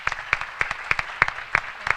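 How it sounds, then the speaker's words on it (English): Sparse, distinct handclaps from a small audience at a fashion luncheon ring out at a slow, steady pace, each sharp clap clearly separated. "So if you could give them a round of applause,"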